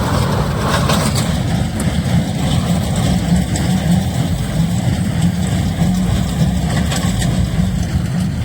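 A four-wheel-drive tractor running a Shaktiman baler in a field: loud, steady low engine drone with a constant mechanical rumble, holding an even level throughout with no speech.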